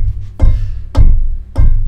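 Three short, percussive keyboard notes played staccato on a steady beat, each struck sharply and cut off quickly with a brief decay, close and loud with no voices.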